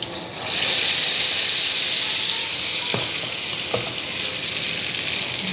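Egg and corn fritter batter sizzles steadily in a hot pan, a loud bright frying hiss that swells early and holds, with a couple of faint utensil taps near the middle.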